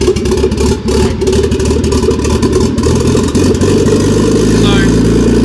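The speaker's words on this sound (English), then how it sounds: "It's going to try to keep the engine as low as possible without stalling" A Nissan Datsun Bluebird 910 RB20DET engine runs loudly with a steady low rumble and clatter, holding an even idle throughout.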